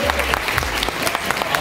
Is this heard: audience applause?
yes